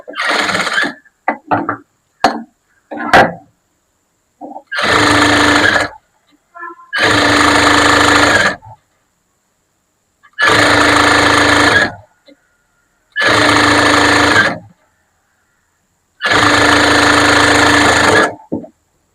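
Sewing machine stitching a blouse, running in five loud sustained bursts of a few seconds each with pauses between, after a handful of short stop-start runs at the beginning.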